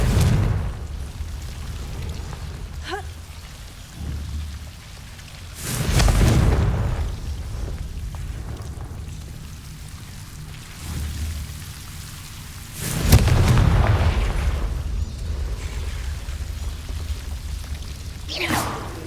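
Confringo explosion spells from Hogwarts Legacy go off as two heavy, booming blasts, one at about a third of the way in and another near two-thirds, each rising sharply out of a steady rushing ambience and trailing off slowly.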